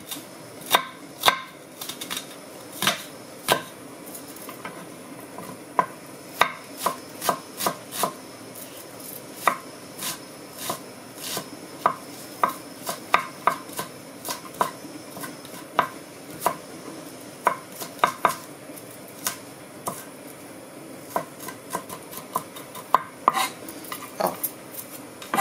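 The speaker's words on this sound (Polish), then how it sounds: "Cebulkę kroimy sobie w drobną kosteczkę." Knife chopping onion into small cubes on a board, a steady run of sharp, close taps with short pauses, alone with no talk.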